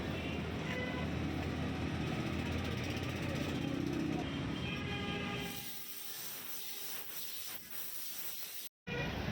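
High-pressure compressed air blasts out through a puncture hole in a tire as a loud, continuous hiss that cuts off after about five seconds, leaving quieter workshop clatter.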